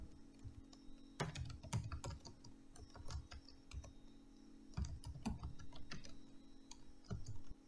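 Fingers tap on a computer keyboard in quick bursts of clicky keystrokes with short pauses between them, close and fairly quiet, with no voices.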